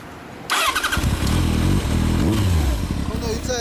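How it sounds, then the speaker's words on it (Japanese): A 2002 Kawasaki ZZR1200 motorcycle fitted with a Diabolic muffler cranks and fires up after a brief quiet moment, then settles into a loud, close, rumbling run with uneven throttle blips. "エンジン音かけてもらえますか？"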